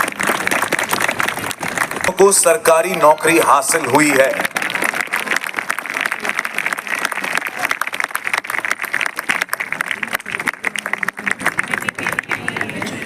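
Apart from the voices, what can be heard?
audience applause at police ceremony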